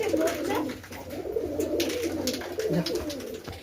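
Domestic pigeons being paired in a home loft cooing softly, repeated throaty rolling coos close by with faint background noise and no clear talk.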